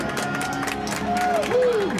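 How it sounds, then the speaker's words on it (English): Riders on a Universal Studios Hollywood tram tour clap and cheer after the King Kong 360 3D attraction, with a crowd murmur and scattered clapping under a couple of rising and falling whoops. "Big round of applause if you enjoyed"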